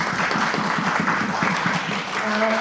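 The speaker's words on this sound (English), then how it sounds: "A round of applause, please, from the audience." Audience applause closing a keynote session at a university closing forum, a steady dense wash of clapping from a crowd, with a voice speaking over it near the end.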